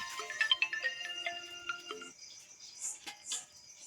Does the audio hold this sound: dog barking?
no